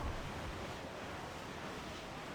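Rough ocean waves in the pirate-era naval video game Assassin's Creed IV Black Flag, a faint, steady wash of surf and wind noise that fills the whole moment without breaks.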